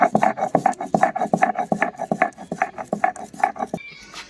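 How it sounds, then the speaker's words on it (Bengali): Poppy seeds being ground by hand on a flat grinding stone, a steady rhythmic scraping and rubbing repeated about twice a second, close and clear, with the stroke stopping near the end. "তো এখানে পোস্ত নিয়ে নিচ্ছি আর পোস্তটা বেটে নিচ্ছি আমি"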